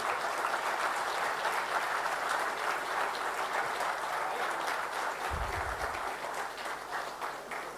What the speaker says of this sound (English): I would request all dealer community to please stand up and give a round of applause to Rajiv and MG Motors.